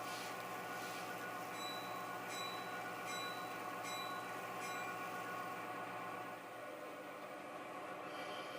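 Locomotive number 89 of the Columbia and Western rolls past into a rail yard as a steady, loud rumble with rhythmic wheel clatter and a few brief high squeals, fading slightly near the end.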